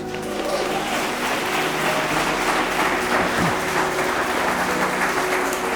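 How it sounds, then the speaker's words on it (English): Wedding guests at Marshall Meadows Manor House applaud after the vows, a dense, continuous wash of clapping from a room full of people, steady and fairly loud throughout. "Definitely deserves a round of applause."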